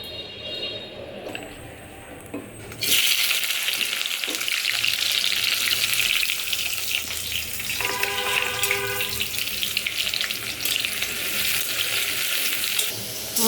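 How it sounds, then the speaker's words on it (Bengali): Onions frying in a pan: a loud, steady hiss of sizzling oil starts suddenly after a quieter opening and continues without pause to the end. "আমাদের দেশের পেঁয়াজগুলো অনেক সুন্দর ভাজা হয়"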